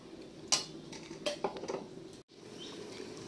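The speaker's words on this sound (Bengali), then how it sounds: "তরকারিটাকে নাড়তে হবে" A spoon stirs curry with pre-boiled bean seeds in a pot, giving a few sharp metallic clinks and softer scraping taps against the pot, close and fairly quiet, with a brief dropout near the end.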